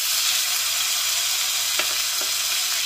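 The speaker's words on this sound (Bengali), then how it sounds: "এবার দিয়ে দিচ্ছি টমেটো, টমেটোটা আগে দিয়ে দিচ্ছি কারণ টমেটোটা তেলে মজে যাবে।" Tomato added to very hot oil with nigella seeds while cooking a Bengali-style katla fish curry, giving a steady, close hiss of frying with a couple of brief spatters partway through.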